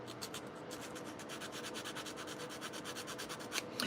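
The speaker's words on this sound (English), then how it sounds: "I was going to do some more sanding on this, but now I have to do it by hand" Sandpaper rubs by hand over a construction-paper model in quick, steady back-and-forth strokes, a soft, close, rhythmic scratching that repeats evenly for about four seconds.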